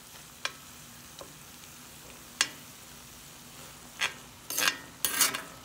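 Meatloaf ingredients cooking in a pan: a faint steady sizzle under a quiet hiss, broken by a few sharp scrapes and stirs that grow busier toward the end, close by.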